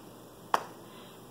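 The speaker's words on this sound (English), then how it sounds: "So can you clap with me?" Two sharp, isolated hand claps about a second apart during a children's storytime, close and fairly crisp against a quiet room.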